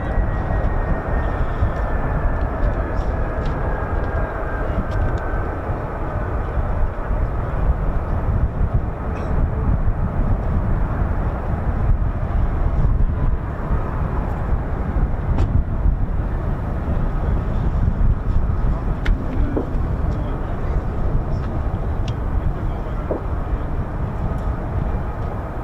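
US Air Force F-15 and F-35 fighter jets of the 48th Fighter Wing depart RAF Lakenheath, a steady, broad jet roar that stays constant throughout with wind buffeting the microphone.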